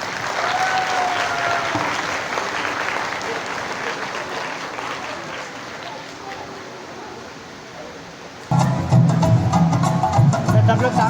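Sustained applause from an audience at an Independence Day celebration at a provincial office in Karachi, given for a group of girls, with voices and cheering mixed in and a louder burst of clapping near the end.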